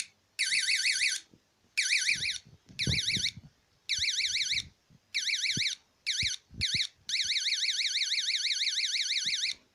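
Repeated electronic beeping of a fish bite alarm in rapid warbling bursts, several short runs separated by gaps, then a long continuous stretch; close and fairly loud with faint clicks beneath.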